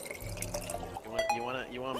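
Clean water pours into a water pump in the Goose Goose Duck video game, a steady liquid pour under continuous talk from players.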